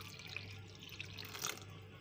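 Water poured from a container into potato paste cooking in a pot for a lotus sauce chaat, a faint, steady liquid trickle with a few small splashes.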